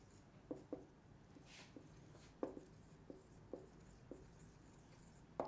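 Chalk or marker writing an answer on a classroom board, faint short tapping strokes in irregular bursts over a quiet room hum, with no voices.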